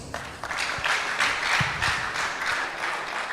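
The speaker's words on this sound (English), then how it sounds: "we should appreciate by another round of applause" An audience at the National Electoral Reforms Summit 2025 applauds in a hall, a sustained round of mixed clapping at moderate level with no voices over it.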